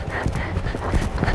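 A dressage horse's hooves beat out a rhythmic working canter during warm-up, close and steady with no talk over them.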